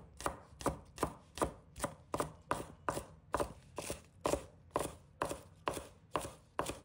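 Kitchen knife chopping a garlic sprout into small pieces on a cutting board: a steady run of about fifteen evenly spaced, crisp, close chops with short pauses between them.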